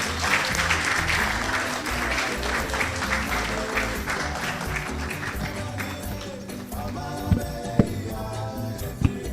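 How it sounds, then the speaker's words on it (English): An audience at a live inaugural lecture gives a sustained round of applause, loud dense clapping that thins toward the end, with a few sharp taps and some background voices. "I think it would be very nice if it is accompanied by a round of applause"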